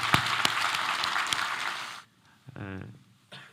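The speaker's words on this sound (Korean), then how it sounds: "우리 하나님께 감사의 박수를 드리겠습니다" A church congregation claps in thanks to God, a dense burst of applause for about two seconds that stops abruptly. A voice speaks alone afterward in a quiet room.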